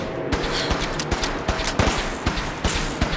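Gunfire in Fallout 4: a rapid burst of repeated shots crackles close and loud, with uneven spacing between the sharp reports over a few seconds.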